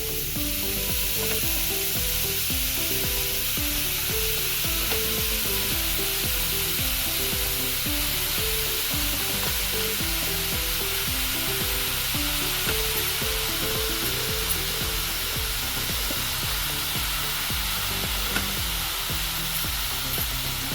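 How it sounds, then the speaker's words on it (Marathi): About two kilos of grated carrot mixture for gajar halwa cooks in a full kadhai. It gives a loud, continuous sizzle with steady rhythmic tapping and scraping throughout. "कढईमध्ये सगळं मिश्रण टाकायचं"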